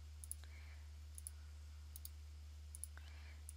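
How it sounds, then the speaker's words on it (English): Several faint computer mouse clicks come in quick pairs against a quiet room with a low steady hum, each pair sharp and brief, spaced about a second apart, with no speech. "You got to right click OK for some unknown reason."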